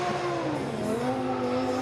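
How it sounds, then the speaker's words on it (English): Lamborghini Huracan drift car at the Goodwood Festival of Speed hill, its engine wailing loudly and steadily with shifting pitch as it is thrashed through a drift run, with tyre scrub underneath. "The sweet exhaust note of the Italian supercar being thrashed by Ma"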